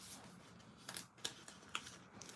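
Scissors cutting paper while making a book journal, a handful of quiet, crisp snips at a slightly irregular rhythm, close and soft against a hushed room.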